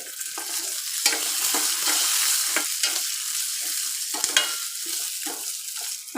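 Cut onion, ginger and garlic stir-fried in a pan, giving a steady loud sizzle broken by repeated scraping strokes of a spoon or spatula, close up with no talking.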